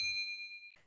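A notification bell chimes once, a clean bright ding that rings and fades out over nearly a second.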